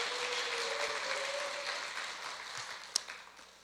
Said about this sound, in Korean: 특별히 수고하신 우리 선교팀장님을 위해서 박수 한번 해주시면 좋겠습니다